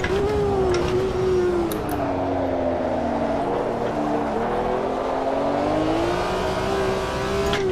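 A BMW M1 Procar pulls out of the pits at Jerez in the AMS2 racing game, its engine note droning steadily and shifting pitch up and down under gentle acceleration, continuous and close for several seconds.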